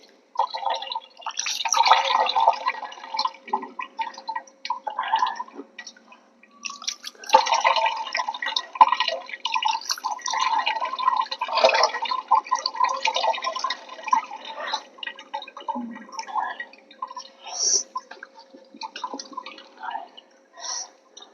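Water pours and drips over freshly made paneer curds at home, a steady, fairly close splashing and trickling that runs in bursts with brief pauses, no voices heard.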